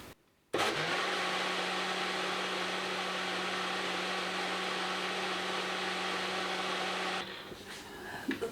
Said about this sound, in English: The thing about this blender is that it doesn't have any like medium settings.